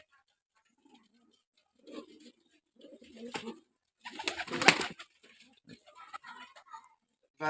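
Giribaz pigeons coo and flutter in short bursts with pauses between, fairly close, with a louder cluster of calls midway and no talking.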